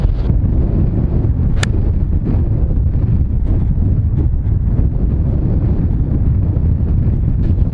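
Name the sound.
strong wind on a golf course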